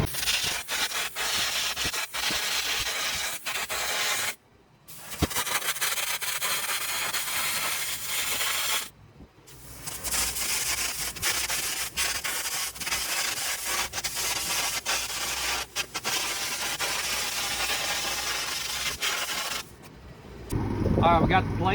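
A gouger cuts off a weld on a steel log trailer bolster during a mobile welding repair, giving a long, loud, continuous harsh hiss broken by two brief pauses.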